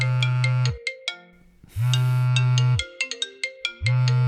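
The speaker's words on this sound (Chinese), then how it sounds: "关键电话来了，等我接完这个电话" A phone ringtone for an incoming call plays loud and close, a repeating melodic tune of bright tones with short breaks between phrases and a low sustained buzz under some passages.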